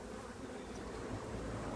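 Honeybees at an opened beehive during an inspection, a dense, steady buzzing hum filling the air continuously at low level, with no voices over it.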